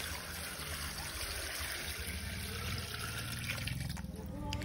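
Water is poured from a basin into a large cooking pot of binignit ingredients, a steady trickling, splashing stream running continuously under faint background voices.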